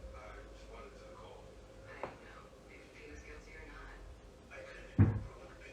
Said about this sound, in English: Many drawers and cabinets can be seen moving all on their own.